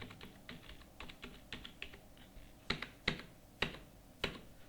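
Someone types on a computer keyboard, entering details into accounting software: sparse key taps that turn into several louder, sharper clicks spaced about half a second apart, close and clear with no talk.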